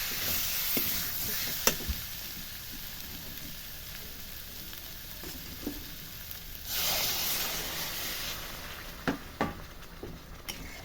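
Potatoes fry in oil for an aloo dum as water is poured in, a steady close sizzle that swells into a louder hissing surge for a second or two, with a few small clinks and pops.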